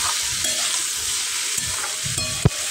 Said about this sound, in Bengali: ঝিঙেটাকে কিন্তু বেশ সুন্দর করে লাল করে কষিয়ে কষিয়ে আমি ভাজবো।